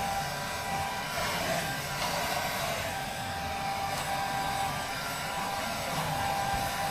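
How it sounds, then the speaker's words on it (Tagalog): A hair dryer blows on damp, wrung-out clothes with a steady, even rushing whir that holds at constant strength from start to finish, with no voices over it. "At ngayon, kini-hair dryer ko na siya."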